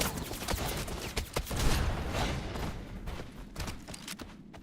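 Dense, continuous gunfire from the Wild Assault shooter game, with rapid overlapping bursts and booms rattling on steadily for several seconds at close range, with no voices heard.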